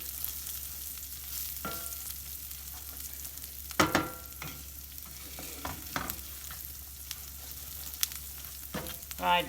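Spanish-style rice frying in a pan until golden brown, a steady close sizzle broken by several sharp scrapes and clinks of a spoon stirring through the grains.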